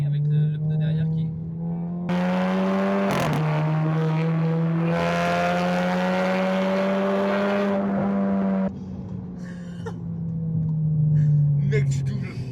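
Inside a tuned Seat Leon FR 5F Stage 1+ with a 1.8L engine making 250 hp: a loud, steady engine drone that swells and eases with tyre roar, one sharp knock partway through, and brief muffled voices.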